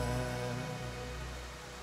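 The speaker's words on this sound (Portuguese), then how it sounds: "Senhor, está chovendo." Steady rain falls in a continuous, fairly loud hiss through the whole stretch, with sustained tonal hum and music-like tones underneath.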